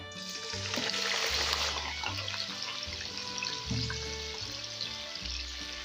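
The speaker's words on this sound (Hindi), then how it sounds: "ऑयल मैंने पॉट में डाला था वो गर्म हो गया। अब ये जो मेरे प्याज है बॉयल हुए इसको शामिल करूंगा।" Boiled onions dropped into hot oil in a pot sizzle and crackle in a loud, steady frying hiss that swells at first and then carries on evenly.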